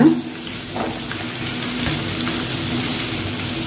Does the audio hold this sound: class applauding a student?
no